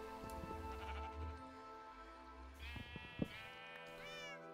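Minecraft sheep bleating in a video game, several wavering bleats, one clearer and nearer toward the end, over a humming background and a brief thump.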